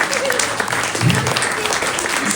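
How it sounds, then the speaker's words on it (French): An audience at a New Year's greetings ceremony in Champcueil applauds, a dense continuous clapping that fills the room at steady strength. "On peut applaudir."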